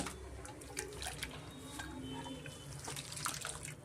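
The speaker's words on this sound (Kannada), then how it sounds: "ಇದೇ ಕುಕ್ಕರ್ಗೆ ಸ್ವಲ್ಪ ನೀರು ಸೇರಿಸ್ಕೊತೀನಿ ನಾನು." Hot water poured into a pressure cooker for vegetable dal khichdi, a continuous close splashing and gurgling stream that runs for a few seconds without pause.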